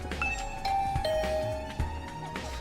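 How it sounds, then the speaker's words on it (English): A doorbell chime in the video game The Hundred Line: Last Defense Academy rings a few clear tones over quiet background music, with no voices. "I rang Nozomi's doorbell,"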